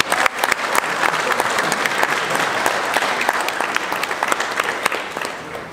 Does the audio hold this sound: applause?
yes